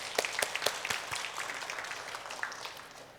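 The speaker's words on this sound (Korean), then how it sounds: "우리 격려하는 마음으로 박수 한번 하겠습니다" A church congregation claps together in encouragement, a soft, steady patter of many hands heard from some distance that thins out gradually toward the end.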